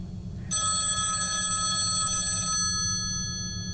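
A telephone bell rings in one loud sustained burst of about two seconds, then a fainter tone lingers over a low steady hum.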